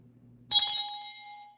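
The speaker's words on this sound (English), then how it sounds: "I'm gonna ring the bell." A single bell is struck once during a spiritual reading, giving a bright, clear ring that fades out over about a second, with nothing else heard.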